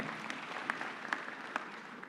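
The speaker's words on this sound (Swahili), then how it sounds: "Makofi kwa BBI." Audience applause fills a large hall at the launch of the BBI report at Bomas of Kenya, a steady, fairly quiet wash of clapping with a few sharper claps standing out.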